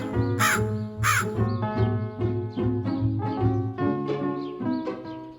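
Repeated harsh caws from a crow searching for water on a hot summer day, loud and close, a string of calls with two especially strong ones at the start and steady calls after.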